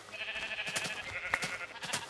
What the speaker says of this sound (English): Kill that sheep.